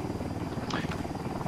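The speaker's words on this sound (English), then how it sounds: "Incoming chopper." A helicopter in the video game Ghost Recon Wildlands gives off a steady, loud rotor drone that fills the whole stretch, with a faint voice briefly over it.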